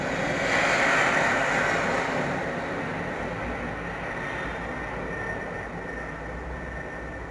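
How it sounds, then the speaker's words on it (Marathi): A railway train passes, heard as a steady, moderately loud rumble with a broad hiss that swells early and then slowly eases off. "बरोबर आगगाडी रेल्वे"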